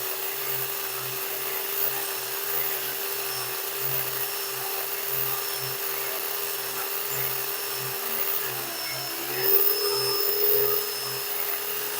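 A cylinder hone spins steadily inside a DRZ400E engine cylinder lubricated with WD-40, a constant whirring grind with a faint rhythmic pulse underneath, shifting briefly near the end.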